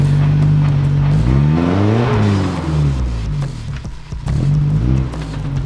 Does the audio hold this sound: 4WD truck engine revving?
yes